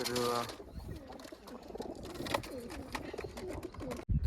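Pigeons shut inside a wooden box coo in a low, steady murmur, with a few brief soft flutters and a voice talking over them throughout.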